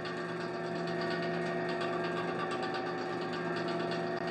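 A lathe cuts a chamfer on a wheel spacer, giving a steady, continuous mechanical whir with a fine metallic cutting texture at a constant level throughout, and no talking.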